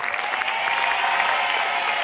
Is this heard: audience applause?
yes